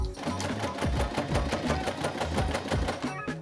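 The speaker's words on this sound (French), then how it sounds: "La dernière chose qu'on va faire, c'est faire une couture sur nos anses." A sewing machine stitching a cross pattern onto the handles of a tote bag made from an upcycled bedsheet, with rapid rhythmic needle bursts in short runs, close and fairly loud.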